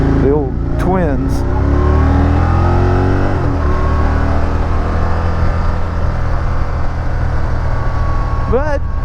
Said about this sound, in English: revving one of these things up sounds very natural and very good